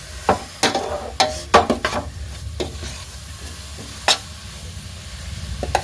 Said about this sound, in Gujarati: આપણે એકદમ શેકી લેવાનું છે.